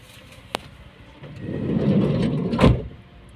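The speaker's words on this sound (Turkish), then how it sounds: "Kapatalım arka kapıyı." A rear door on a Fiat Fiorino van swings shut in one dull, low thud near the end, after a brief rising rustle of movement; a short click sounds earlier, and no one speaks.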